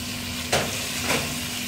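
Meat and tomato frying in a pan for stuffed peppers, a constant close sizzle with two brief bursts as pine nuts are tipped in and stirred.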